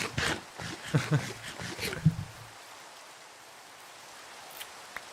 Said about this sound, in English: it's raining here, what the heck?